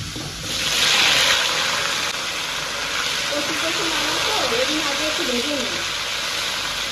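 Taro pieces fry in a hot wok with five-spice seeds, dried red chillies and bay leaves, giving a loud, steady hiss and sizzle throughout, with a faint voice murmuring partway through.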